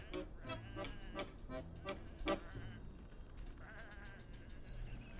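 Sheep bleating in the video game Whateverland, several short wavering bleats from more than one animal, some overlapping, at moderate distance over a low ambient background, with a voice speaking faintly underneath.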